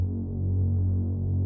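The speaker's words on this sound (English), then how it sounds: "I added a bass, so my bass sounds like this." A deep, sustained bass line from an electronic music production, a steady low throbbing hum that holds loud and even for the whole moment with nothing above it.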